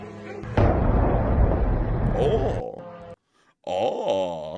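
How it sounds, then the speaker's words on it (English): A big, booming explosion from a drone attack roars with a long rumbling tail, followed by a brief silence and then a wailing, moaning sound. "A very big explosion indeed, for sure, right there."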